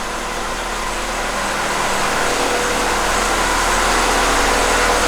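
A car engine on solid motor mounts idles steadily and loudly up close, a dense continuous rumble that holds even throughout, no voices.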